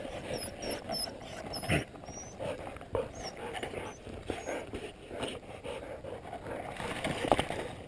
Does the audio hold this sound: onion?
no